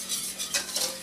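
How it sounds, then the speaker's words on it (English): Flour roux being stirred in a pan, a brief soft scrape of a utensil with faint sizzle, two quick strokes close by. "You just want to stir it so it gets smooth."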